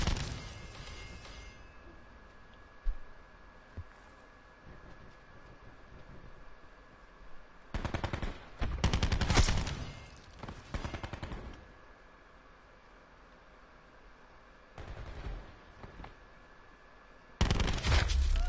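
Bursts of gunfire from the Call of Duty Black Ops 4 video game rattle out in several loud automatic volleys, with quieter stretches and a faint hum between them; no one speaks.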